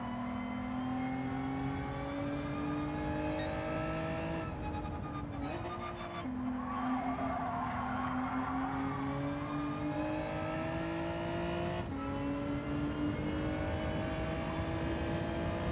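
A race car engine in Gran Turismo 7, during an online daily race in a public lobby, drones loud and close, its pitch climbing as it accelerates and briefly dipping at a few gear shifts, with no talk over it.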